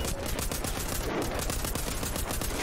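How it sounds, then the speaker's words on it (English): Dense, continuous gunfire from a fort wave-defense video game, Band of Defenders, rapid overlapping shots like machine-gun bursts pouring out loud and unbroken for the whole stretch. "Oh, I'm getting shot from behind."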